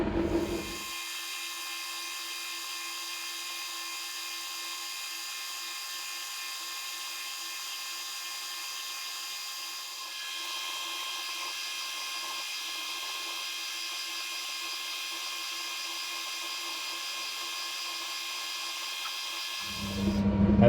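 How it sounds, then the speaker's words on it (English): A fly cutter machines the ends of a quick-change toolpost tool holder on a milling machine, giving a steady, loud, high-pitched whine with a constant tone throughout. The cut runs unbroken and alone, with no talk. "just to run the fly cutter over the ends, just to make it uniformed"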